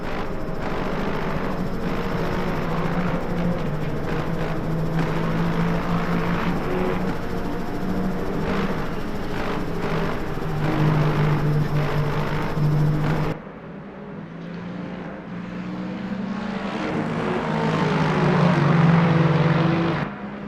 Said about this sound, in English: that was the Lexus just up ahead of the number 8 here, just with the exhaust note